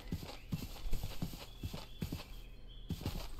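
Horse hooves clip-clopping in the RLCraft video game, a steady walking rhythm of paired hoof clops at moderate volume with faint background sound.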